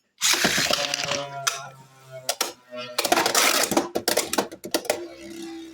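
Beyblade X winder launcher, modded with a reinserted ripcord, ratchets loudly through a few quick rips in two main bursts, with clicking mechanism noise and a spinning whir trailing off after each launch.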